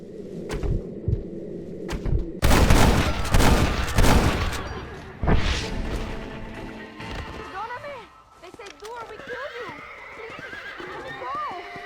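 Bandits firing guns during a Red Dead Redemption encounter: a loud, dense burst of shots for about two seconds, then a single crack, followed by horses neighing and hooves clip-clopping, with a voice talking intermittently.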